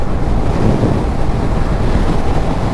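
Wind blasting against a rider on a 2022 CF Moto 650NK motorcycle without a windshield: a loud, constant roaring rush of buffeting air close to the microphone, with no talking.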